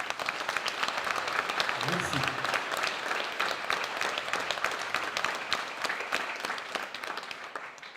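Dense, steady applause from a conference audience fills the room throughout, many hands clapping at once, loud and close, with a voice briefly heard over it.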